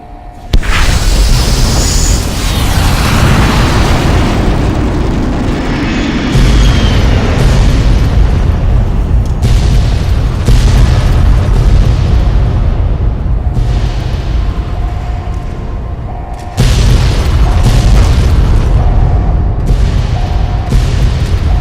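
Massive explosions tear through the Divide in the Fallout: New Vegas ending, a continuous loud roar of booms and bursts that swells in several waves with no talking.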